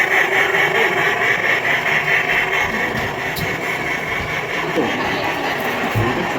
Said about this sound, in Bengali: আর ট্রেন চলে গেল মা